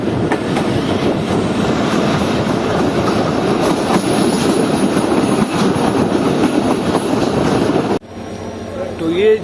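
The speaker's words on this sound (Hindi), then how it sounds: "हमारी ट्रेन अप्रोच कर रही है जंगशाही रेलवे स्टेशन पर" A passenger train pulling into Jungshahi railway station rumbles loudly and continuously with rattling wheels and some squeal, then the noise drops sharply near the end, with voices audible in the background.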